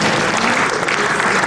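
Members at a church pension association meeting applaud to approve the nominated president and vice president, a loud, close, continuous burst of crowd clapping over a brief moment.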